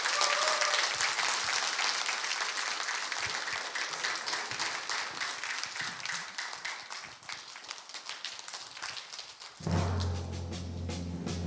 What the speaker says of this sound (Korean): 큰 박수로 청해 주시기 바랍니다